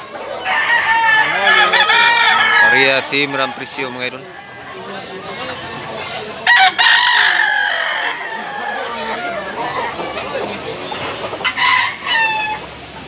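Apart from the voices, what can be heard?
roosters crowing and clucking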